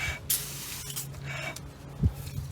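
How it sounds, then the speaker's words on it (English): Brake cleaner sprays onto the front brake of a 2014-2020 GMC or Chevrolet truck, a soft continuous hiss with short puffs and a small knock near the end. It is faint and close, with no talk. "just going to spray a little bit of brake cleaner on here to make sure that I didn't touch anything"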